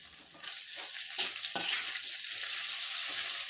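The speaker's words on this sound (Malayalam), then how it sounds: "ഒപ്പം തന്നെ ഒരു പച്ചമുളക് ചെറുതായിട്ട് കട്ട് ചെയ്തതും 1/2 ടീസ്പൂൺ ഉപ്പും കൂടി ചേർത്ത് വഴറ്റി തുടങ്ങാം" Sliced onions with chopped green chili and salt sautéing in a pan, a steady bright sizzle with a few stirring scrapes, close and continuous, no voices.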